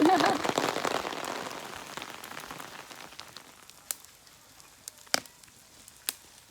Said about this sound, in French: Et puis l'orage est arrivé.